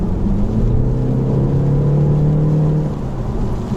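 A BMW 530e plug-in hybrid in sport mode gives off a smooth, loud, droning engine and exhaust tone inside the cabin that rises slightly in pitch, then eases off near the end.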